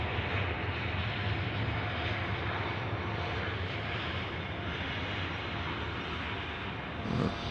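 A Jetstar airliner passes at Sydney Airport, its jet engine roar a steady, loud broadband rumble that holds for the whole stretch without any talk.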